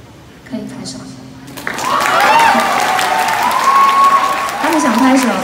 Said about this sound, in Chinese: 可以拍手。